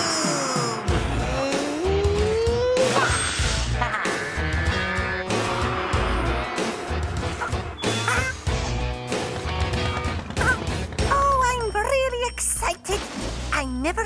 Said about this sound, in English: Engines roaring, tyres squealing.